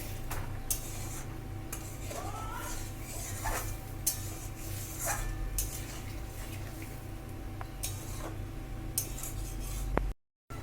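A spoon scrapes and clinks against a pan while a bottle gourd and prawn curry is stirred, irregular soft strokes over a faint steady hum, ending in a sudden cut.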